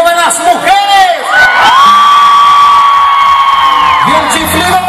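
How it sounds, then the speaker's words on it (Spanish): A loud concert crowd of women screams and cheers at a show in Mexico City's Zócalo, high shrill voices rising over a sustained roar, close and dense throughout. "esta noche queremos escuchar el grito de las mujeres"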